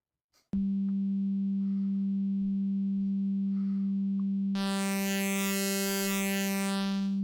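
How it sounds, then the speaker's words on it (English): A synthesized phase distortion oscillator in Drambo holds a loud, steady pure buzzing tone, then abruptly turns much brighter and harsher as sawtooth-like high harmonics are added partway through. "So just a saw wave acting as our sine function readout, adding in some of like really high harmonics."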